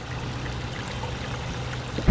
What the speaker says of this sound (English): It's powered by gas and hot water comes out.